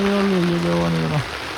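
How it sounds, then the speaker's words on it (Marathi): Heavy rain pours down as a dense, steady hiss close by, and a brief falling tonal call rises over it for about a second before the rain continues alone. "पाऊस पडत आहे"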